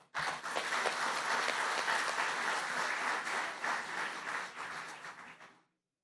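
Warm applause from members of a departmental assembly at its installation session, a dense, sustained burst of clapping at steady loudness that stops abruptly near the end, followed by silence.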